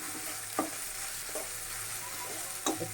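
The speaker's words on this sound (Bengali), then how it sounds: "আমি এটা একটু ভাজা ভাজা করে তারপর আমি অল্প একটু মশলা অ্যাড করবো" Mustard paste frying in a pan for a vegetable dish, a steady soft sizzle with a few brief scraping stirs, close and fairly quiet with no talk.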